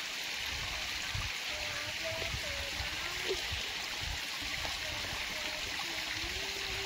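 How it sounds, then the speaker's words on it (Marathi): A river flows outdoors beside farmland where a chicken is being cut for a field party, giving a steady, even rush of water throughout with faint scattered tones over it. "तुम्ही बघू शकता नदी."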